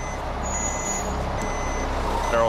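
A fuel tanker truck on a mountain highway in Canada, teetering near rollover, rumbles steadily with a low engine drone, and a reversing beep rings out alongside it with a brief hiss near the end.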